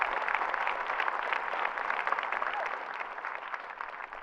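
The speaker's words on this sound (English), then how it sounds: "So please give yourselves a round of applause" A crowd of Queens College graduates at a 2019 commencement claps steadily, dense sustained applause that stays even throughout with no speech over it.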